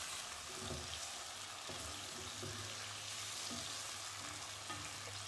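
Chicken pieces fry in a pan for restaurant-style butter chicken, giving a steady, close sizzle with occasional scraping stir strokes throughout.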